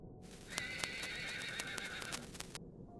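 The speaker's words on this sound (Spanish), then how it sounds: "El caballo de mi abuelo" A horse whinnies at night among cornfields near a lagoon, one drawn-out neigh lasting about two seconds, clear and fairly close above a steady hiss of background noise.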